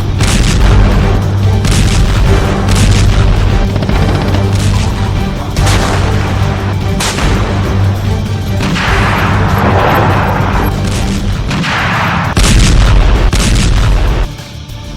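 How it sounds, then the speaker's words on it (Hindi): Ammunition depots in Ukraine blowing up, a dense run of loud booming explosions with repeated sharp blasts and rumbling crashes over continuous heavy low roar, very loud and close throughout. "रूसी सेना ने यूक्रेन के बम और बारूद से भरे गोदामों को धमाके के साथ उड़ा दिया है"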